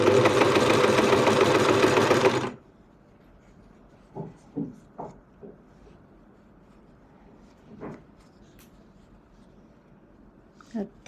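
A sewing machine stitching a fabric scrunchie runs in a dense, loud mechanical whir for about two seconds, then stops, leaving quiet handling clicks and rustles.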